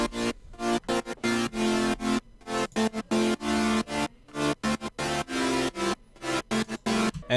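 Chopped, rhythmic synth chords in an electronic music production track, with bass and sub frequencies cut by EQ, stuttering in short gated bursts separated by brief gaps, loud and up close with no voices.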